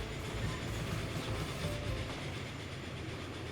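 The Flying Scotsman steam train runs along the track in Transport Fever 2, a steady rumbling rail noise with faint clickety-clack, continuous and close, without any voices.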